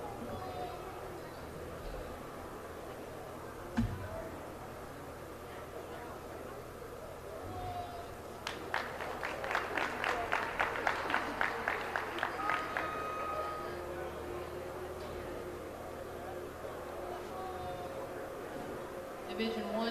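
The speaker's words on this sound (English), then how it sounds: "Let's give him a round of applause" Audience applause at a junior livestock show for market goats, a short burst of clapping in the middle rising from a murmuring arena background, fairly distant and moderate in loudness.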